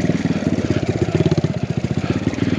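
A dirt bike fitted with a big bore kit idles up close, its engine chugging in a steady, loud pulsing rhythm throughout with no other sounds.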